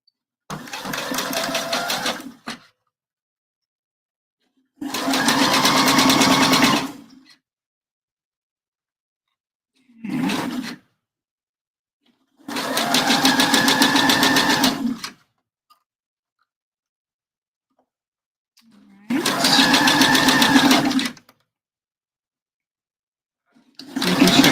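Home sewing machine stitching bra cups, running in five or six separate bursts of a few seconds each with silent gaps between, close and clear, with no voices.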